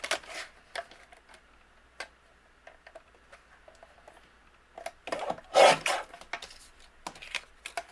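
Paper being trimmed for a handmade spring card with a paper trimmer: soft, close scraping and rubbing strokes, with one louder swiping cut late on and quiet pauses between.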